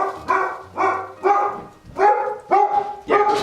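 A neighbor's dog barks repeatedly in a steady rhythm of about six loud, close barks, heard clearly on its own.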